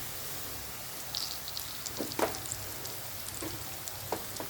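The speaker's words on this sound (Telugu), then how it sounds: "సో చూసారు కదా, ఈ విధంగా అయితే రైస్ వేసుకొని బాగా కలుపుకోవాలి." Cooked rice being stirred into carrot rice in a pan, giving a soft, steady sizzle-like hiss with a few scattered scraping stirs, fairly faint and continuous.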